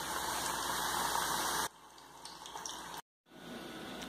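Homemade pastéis frying in hot oil make a dense bubbling hiss that cuts off sharply after a second and a half, continues more quietly, drops to brief silence, then returns softly.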